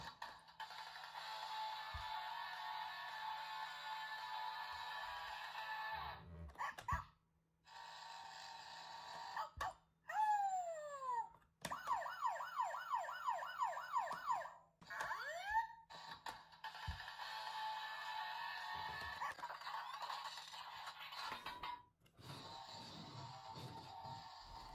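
Electronic toy police siren tones from a Paw Patrol Mighty Movie Chase transforming cruiser, steady wails and fast rising whoops, repeating with short gaps, tinny and fairly quiet.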